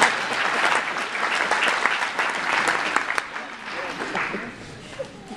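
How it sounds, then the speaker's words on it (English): Audience at a formal address breaks into sustained applause, a dense crackle of many hands clapping that fades slightly toward the end. "You can clap."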